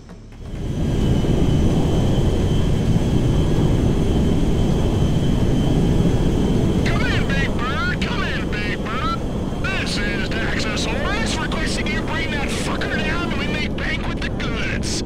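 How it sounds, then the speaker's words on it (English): A propeller plane in a video game drones steadily as it flies in for a landing, its engine loud and constant throughout while voices talk over it. "Now we just gotta land the plane and unload it."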